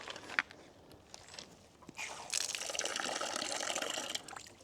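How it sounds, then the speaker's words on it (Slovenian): Water gushes steadily from a tap at a trail-side water source, a continuous splashing flow starting partway through and holding to the end, with a few footsteps and small knocks before it begins. "Tukaj zraven pa lahko tudi pokažem, je vodni vir."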